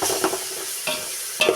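Garlic paste sizzles in a pan for chicken biryani while a spoon stirs it, with bright frying hiss and a few distinct scraping strokes spaced across the moment, close and alone without speech.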